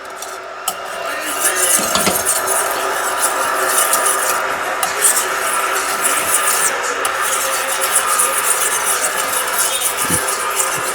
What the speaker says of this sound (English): we're just going to keep whisking that through